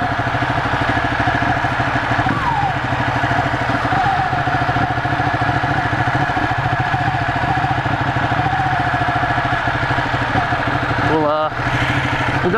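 A Ducati 1199 Panigale S motorcycle idles close by with a steady, throbbing, loud rumble. Near the end it gives a brief throttle blip.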